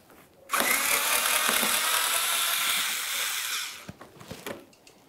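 A power tool drives out 7mm fender liner mounting bolts on a 2006-2012 Ford Fusion: one loud, sustained whirring burst of about three seconds, then a few short clicks and clunks of handling.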